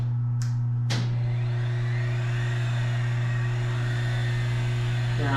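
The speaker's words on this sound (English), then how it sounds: "We'll switch to knee power feed." Bridgeport Series 2 milling machine with its knee power feed running: a steady, loud motor hum and drone, close up, preceded by two sharp clicks at the start, with no talking.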